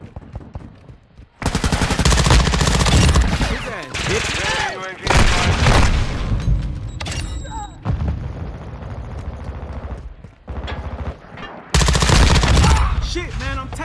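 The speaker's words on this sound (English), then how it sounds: "Shit, man, I'm taking fire." Video game gunfire from Call of Duty Modern Warfare 2: loud bursts of rapid automatic fire and single shots, near and dense, with short pauses between volleys and voices talking under the combat.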